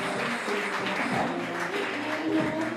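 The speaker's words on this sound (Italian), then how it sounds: "Un bel applauso" Applause from a pageant audience greets a Miss Aurora 2025 beauty contestant at a villa in Dolo, Venice, a steady broadband wash of clapping lasting throughout, with faint background voices mixed in.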